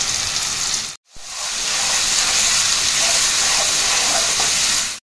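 Ground spinach paste hitting a hot pan, a loud hissing sizzle that breaks off briefly, then resumes as a dense, sustained crackle until it cuts out near the end.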